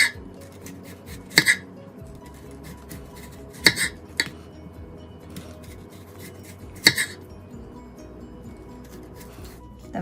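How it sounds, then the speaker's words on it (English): Knife cutting green tomatoes into quarter-inch slices on a board, several sharp isolated knocks and clicks spaced a few seconds apart, close and fairly quiet with little else around. "we're going to slice the tomato in about 1/4 inch thick slices"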